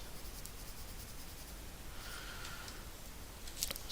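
A Color Erase pencil sketching on paper makes a faint, steady scratchy stroking, close and quiet, with a few brief louder scrapes near the end.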